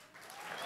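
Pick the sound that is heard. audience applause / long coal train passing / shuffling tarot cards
audience applause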